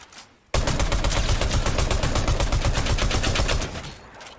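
Rapid automatic gunfire in Fortnite bursts in suddenly and hammers on in a loud, dense, evenly spaced stream of shots for about three seconds before tapering off.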